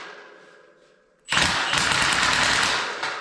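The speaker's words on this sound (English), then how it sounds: "We got the old Milwaukee turned all the way down because it's easy to strip or to break these bolts" A Milwaukee impact driver fitted with a deep well socket and set to its lowest setting drives bolts while installing animal pens in a barn. After a quiet start it breaks into a loud, close, rapid hammering rattle that runs without pause.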